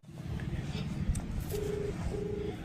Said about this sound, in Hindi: कॉल लग गया है गाइस, कॉल लग गया।